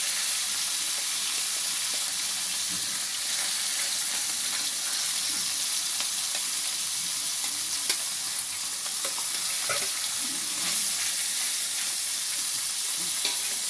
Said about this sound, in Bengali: তেলটা গরম হয়ে গেছে, এবার এর মধ্যে মাছগুলো দিয়ে ভালো করে ভেজে নিতে হবে।